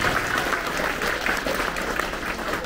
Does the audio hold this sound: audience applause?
yes